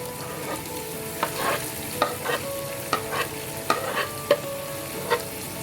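Garlic, ginger and green chili paste frying in a pan for chicken pulao, a steady sizzle with a spoon scraping and stirring in regular strokes about once a second, close and clear with no voices.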